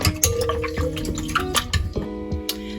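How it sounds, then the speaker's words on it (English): Sourdough bagel mixture is whisked after salt is added, giving a busy run of clinks and scrapes against a bowl with light wet dripping sounds, close and moderately loud throughout. "Now go ahead and give that a good whisk."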